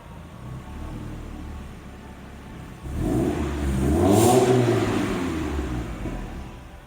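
A car engine fitted with a Core EFI plug-and-play engine management system idles after a cold start, a steady low hum that swells louder and rougher from about three seconds in, with a faint whine above it.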